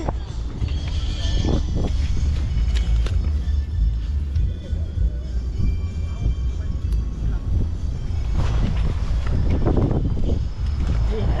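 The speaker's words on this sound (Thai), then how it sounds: "ลมแรงแล้วครับลมแล้วลมแรงลมแรงจริง" Strong wind gusts buffet the microphone at a barramundi fishing pond, a loud, steady low rumble throughout with gusts swelling around the middle and near the end, and voices faintly in the background.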